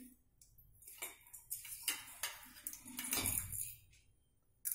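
Mustard seeds go into a small spoonful of hot oil in a pan, giving sharp scattered ticks, clinks and crackles close by, with bursts of spattering and metal tapping.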